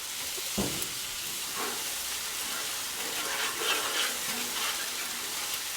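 Tortillas frying in oil on a Blackstone griddle, a steady bright sizzle with faint scraping touches throughout, no talking.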